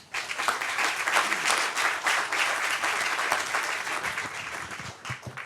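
An audience applauds at a grand re-opening event for Hunters Point East West and Westbrook, a sustained, fairly loud wash of clapping that thins out toward the end, with no talk over it.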